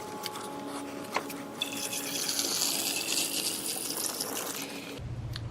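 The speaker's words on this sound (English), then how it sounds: "Now I'll go ahead and fill up the reservoir." Coolant poured into the reservoir of a 2014 Ford Focus during a thermostat housing replacement, a steady gushing liquid fill lasting a few seconds before stopping, close and fairly loud.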